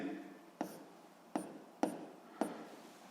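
A pen writes a physics equation on paper during a lesson, with soft close scratching punctuated by four sharp taps, quiet and without talk.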